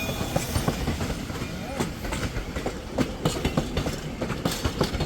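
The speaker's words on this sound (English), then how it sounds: "there goes our train" A Hocking Valley Scenic Railway train hauled by a 1920 Baldwin locomotive rolls past near Nelsonville, Ohio, its wheels beating a steady clickety-clack rhythm over the rails, close and continuous with a broad rumbling wash underneath.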